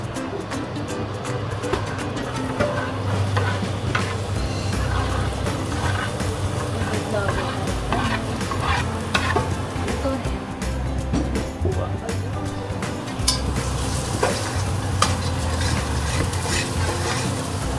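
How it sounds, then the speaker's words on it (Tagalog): Garlic and onion sautéing in a pan for a homemade caldereta, giving a continuous sizzling hiss with stirring clatter, while a person talks over it throughout. "Guys, lalagay na natin yung garlic and onion."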